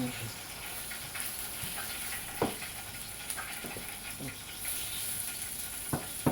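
Food fries in a pan after a splash of water, hissing and sizzling steadily while a utensil knocks and scrapes through it in irregular strokes, up close and without speech.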